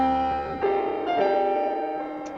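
Jazz piano recording, played plainly as a sample, with sustained chords and a few struck notes ringing clearly for a couple of seconds.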